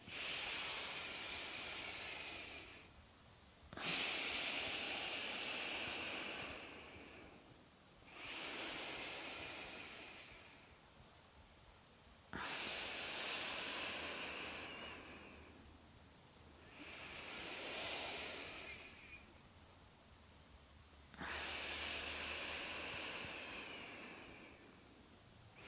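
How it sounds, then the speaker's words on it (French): Long, slow breaths in and out through the nose during a kundalini warm-up, six or so soft airy hisses of several seconds each, close and quiet, alternating with brief pauses and no talking. "Inspire, expire uniquement par le nez."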